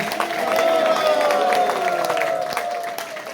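Crowd applause welcoming legislators at the ISKCON temple in Mayapur, Nadia: dense sustained clapping with a high ringing ululation tone running through it, slowly fading toward the end.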